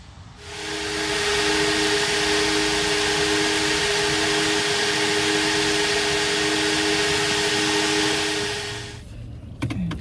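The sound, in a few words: vacuum cleaner running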